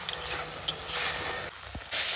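Dried chili, bay leaf, cumin, a ginger, garlic and onion paste, and turmeric fry in mustard oil, giving a continuous sizzle with a few soft stirring knocks and a louder hiss near the end.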